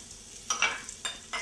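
Garlic and shallot sauté in a hot pan, a soft sizzle broken by three short bursts of stirring scrapes.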